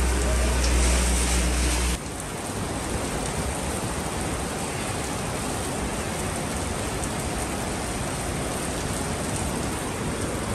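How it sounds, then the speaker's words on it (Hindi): Heavy rain pours down in Kashmir, a dense, even hiss of rainfall that keeps going steadily, with a louder low rumble in the first two seconds before it settles. "बारिश जो है ना बड़ी ज़बरदस्त हो रही है"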